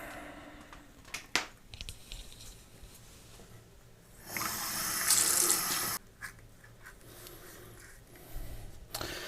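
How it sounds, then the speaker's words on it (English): Tap water runs into a sink as soap is rinsed off hands, starting after quiet handling sounds, a loud steady gush for about two seconds, then stopping, followed by faint drips and movement. "let's rinse it off."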